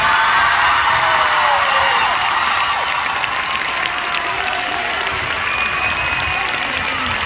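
A big outdoor festival crowd at a concert in Culleredo, A Coruña, Spain, keeps up loud applause with cheering and high whoops throughout.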